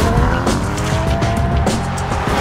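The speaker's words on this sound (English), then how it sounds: "Launching the Uber Cayman is pretty straightforward." A 2015 Porsche Cayman GTS launches hard, its engine roaring loud and close while the tires squeal continuously through the start.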